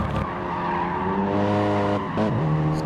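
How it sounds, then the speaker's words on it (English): A Ford race car in a sim racing game screeching its tyres through the final corner, a loud sustained squeal over a droning engine whose pitch dips briefly and then rises again. "And here's Des coming round the final corner. in the Ford Racing."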